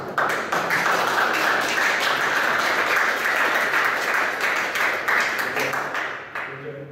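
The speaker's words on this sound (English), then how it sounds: "Give a round of applause." Audience at a motivational seminar breaks into loud, dense applause that holds steady for about six seconds, then thins and fades in the final moment.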